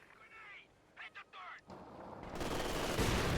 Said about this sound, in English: Wiped out there by combined 50 caliber and 76mm gun fire.